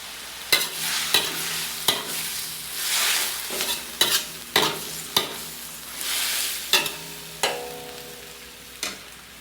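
Red and green chilies hit a hot pan of beef intestine adobo, giving repeated sharp sizzling bursts with stirring scrapes between them, close and fairly loud, with no talking.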